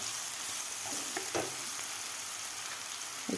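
Ginger-garlic paste and onion frying in hot oil for broccoli bhaji, a steady close sizzle with a few soft stirring scrapes, no voices.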